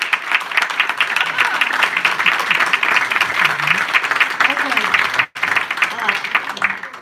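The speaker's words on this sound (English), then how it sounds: "I'd like you to give them a round of applause" Audience applause for four mayoral candidates at a chamber of commerce debate, sustained dense clapping filling the room at steady volume, with a brief break near the end and faint voices beneath.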